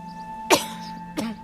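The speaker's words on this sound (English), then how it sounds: "That was a cough." A character coughs in the video game What Remains of Edith Finch: two short, close, rasping bursts about half a second apart over a faint steady hum.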